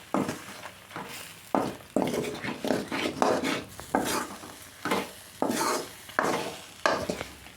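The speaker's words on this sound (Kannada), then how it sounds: "ಈಗ ಇದನ್ನ ಹಾಕ್ಕೊಂಡು ನೀಟಾಗಿ ಫ್ರೈ ಮಾಡ್ಕೋಬೇಕು" Sambar masala with chili powder fries in a pan for mutton sambar, heard as a close, rhythmic series of loud stirring scrapes over a low sizzle, repeating roughly every second.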